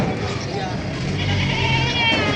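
Goats for sale at a farm in Padre Garcia, Batangas, bleating under steady, continuous talk from people nearby.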